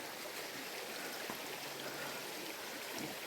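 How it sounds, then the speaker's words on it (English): Crenshaw Creek flows along a hiking trail as a steady, close rush of running water. The broadband wash holds even throughout, with no voices. "Alright, Crenshaw Creek."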